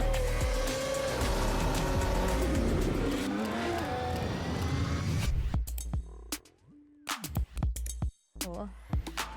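Formula 1 race cars roaring loudly at high revs for several seconds, then cutting to quieter stretches broken by short sharp bursts of engine noise.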